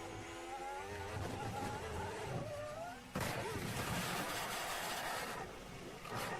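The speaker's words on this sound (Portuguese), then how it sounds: "a hora que o carro volta de uma vez e aí roda forte pro outro lado e bateu aí sim forte no outro muro" A Formula 1 car in 2019 Canadian Grand Prix qualifying snaps around, spins and slams into a wall, engine whine rising and falling before a sudden loud impact burst, followed by a continuing roar and commentary voices.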